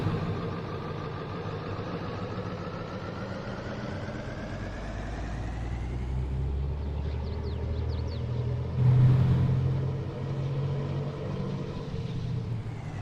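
A loud truck engine in a farming simulator rumbles steadily at a heavy low pitch, idling and revving slightly, with a brief swell in loudness partway through and no talking.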